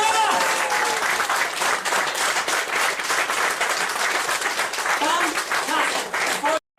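Loud, sustained audience applause with cheering erupts right after a card magic trick reveals the Jack of Hearts, filling the room for several seconds before cutting off abruptly.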